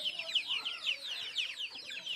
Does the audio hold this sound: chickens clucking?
yes